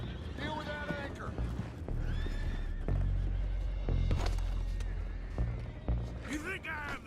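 Horses in the Red Dead Redemption 2 game whinny and neigh several times over steady hoof clip-clops, with voices talking throughout.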